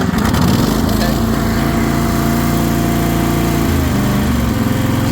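A small Ingersoll plow tractor engine running steadily and loud from start to finish, with a close buzzing drone and a brief dip near the four-second mark, no talk over it.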